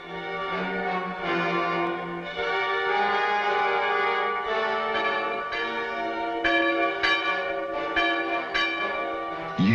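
Village church bells tolling on St. George's Day, several bells ringing continuously with overlapping resonant strikes, loud and sustained with no talk.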